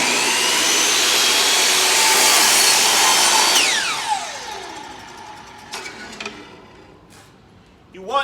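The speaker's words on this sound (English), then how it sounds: "start up the saw, and then make your cut" Miter saw spinning up and cutting through a wooden board, a loud sustained whine for several seconds that then winds down as the blade slows, followed by quiet clatter.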